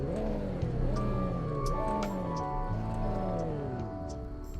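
Jupiter Inspire car engine in the Roblox game Greenville starting up and revving, the pitch climbing and falling in repeated swells, loud and close with no talk over it.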